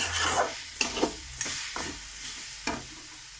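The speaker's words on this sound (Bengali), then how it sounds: "আমি ভালো করে ঘষে ঘষে ছাইটাকে বানিয়ে নিচ্ছি।" A sugar and grated coconut filling with cardamom is stirred in a frying pan, a spatula scraping in several distinct strokes over a soft sizzle, close and fairly loud.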